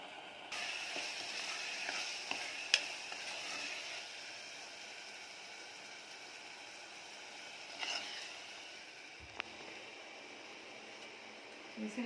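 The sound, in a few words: frying tomato masala with spices in a pan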